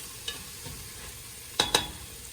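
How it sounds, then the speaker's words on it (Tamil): Tomato masala being stirred in a pot for chicken biryani, with a few soft scrapes and then two sharp, close clinks of the spoon against the pot near the end, and no talking. "சேர்த்துட்டு மறுபடியும் ஒரு நல்லா மிக்ஸ் பண்ணிவிட்டு வந்து நல்லா வேக வைக்க போகிறேன்."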